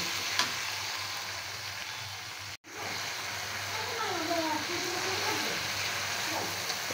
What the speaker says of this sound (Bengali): এখন আমি মশলাটা ভালোভাবে নেড়ে চেড়ে নেব।